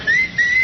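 A person gives a loud, piercing whistle to hail a taxi, one sustained tone that dips briefly and rises again, close and alone.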